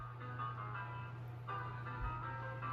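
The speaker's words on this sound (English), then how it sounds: "Fourth piece that we're going to listen to from Joplin is called The Entertainer." Scott Joplin's ragtime piece The Entertainer played as a tinny electronic chime melody, like an ice cream truck tune, faint and distant over a steady low engine hum.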